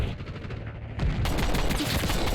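Rapid TR2 rifle gunfire in Black Ops 6 during a Hardpoint match, a quick run of sharp single shots that grows louder and denser halfway through, with no talking.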